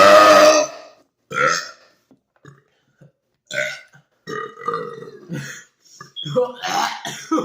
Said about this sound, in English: You gotta drink all of it and then burp.